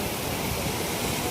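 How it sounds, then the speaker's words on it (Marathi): Small waterfall spilling from a fort bastion near Takmak Tok at Raigad fort, a steady broadband rush of falling water, loud and continuous with no voices. "इकडे टकमक टोक, हा छोटासा एक धबधबा आहे. बुरुंजावरून धबधबा आहे."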